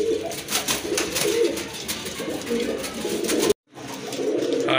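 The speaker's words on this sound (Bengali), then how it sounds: "এখন কিন্তু দেখতে পাচ্ছেন এক জোড়া কবুতর রয়েছে" A pair of pigeons offered for sale, cooing in soft, repeated low calls close by while someone talks over them, with a brief break near the end.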